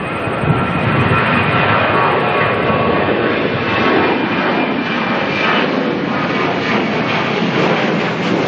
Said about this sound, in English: next departure coming out, QF 154 737-800 heading off to Melbourne.